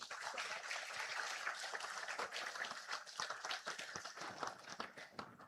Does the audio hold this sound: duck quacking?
no